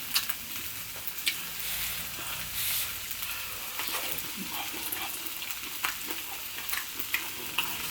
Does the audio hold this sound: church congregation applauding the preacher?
no